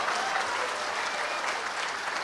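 Audience applauding at a political party tribute event, a dense, steady clapping that stays loud and even throughout.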